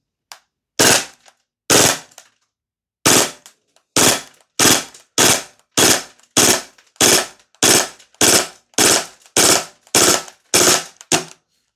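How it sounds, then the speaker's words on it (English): A Tokyo Marui MP9 gas blowback airsoft gun fires loud, close bursts, each a sharp cluster of rapid cracks, repeated about fourteen times in a steady rhythm with short gaps and no talk. "We'll flip the selector all the way around and we'll do some bursts with this thing."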